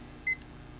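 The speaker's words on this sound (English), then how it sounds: "let me start the timer" A kitchen-style timer gives one short, clear electronic beep as it is started, set against a quiet room hum.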